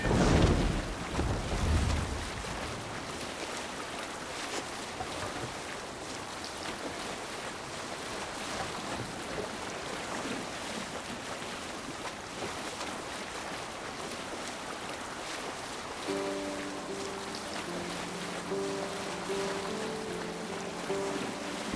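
A sailing boat moves across the open sea in Assassin's Creed Valhalla, with steady waves washing against the hull and wind, a low rumbling wash that runs throughout.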